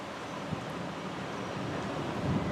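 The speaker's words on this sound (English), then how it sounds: "Oh, it's super windy." Steady low rumble of wind buffeting the microphone, with occasional heavier gusts and no speech.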